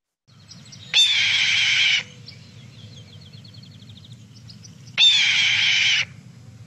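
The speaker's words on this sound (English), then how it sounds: "So here's how the hawk sounds." A hawk gives two long, harsh screaming calls, each lasting about a second and spaced roughly four seconds apart, loud and close, over a steady low background rumble with faint chittering in between.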